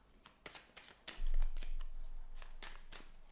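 Tarot cards handled and turned over during a reading: a run of crisp, papery flicks and slaps close by, several distinct snaps spaced irregularly over a low background hum.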